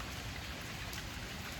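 Steady rain pours down during a hot summer festival, a dense even hiss of drops hitting surfaces close by, continuous and unbroken with no voices.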